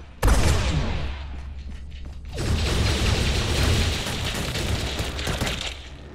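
A bomb explosion erupts abruptly in the N.O.V.A. Legacy sci-fi shooter game, followed by a sustained, dense barrage of loud gunfire and mechanical clatter that carries on close and heavy until the end.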